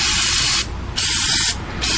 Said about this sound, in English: Like I said, don't be bashful.